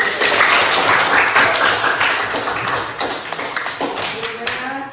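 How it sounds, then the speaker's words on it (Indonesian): An audience in a gathering breaks into a burst of clapping that starts dense and loud, then thins out into scattered claps and taps over a few seconds. "Tepuk tangan."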